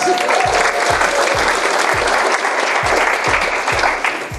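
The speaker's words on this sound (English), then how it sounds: "Let's give an applause, guys." Steady, dense applause from an audience at a business talk on Amazon selling and finding suppliers, loud and sustained throughout with a few soft low thumps underneath.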